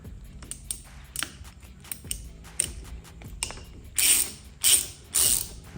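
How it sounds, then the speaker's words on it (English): Allen screw being loosened from a motorcycle bar end mirror, a series of close ratcheting clicks and small metallic ticks, ending with three louder bursts of grinding ratchet turns. "So we need to take out the Allen screw."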